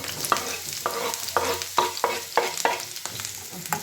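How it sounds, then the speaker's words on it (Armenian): Purslane fries in hot oil in a pan, a close crackling sizzle broken by a steady rhythm of sharp stirring scrapes, about two per second. "հիմա դանդուրն եք տապակում, յուղը դրել եմ"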